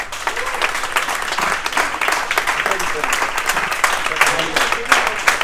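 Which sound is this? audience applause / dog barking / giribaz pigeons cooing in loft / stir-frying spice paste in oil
audience applause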